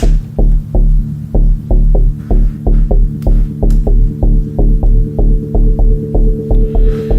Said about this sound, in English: I have a bass line that is on the same pattern, as you can see here, except it's a single note.